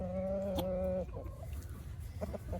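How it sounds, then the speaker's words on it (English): A rooster crows nearby in cold weather, a long harmonic call, followed by softer clucking and faint rustling in the background. "there goes the other roosters"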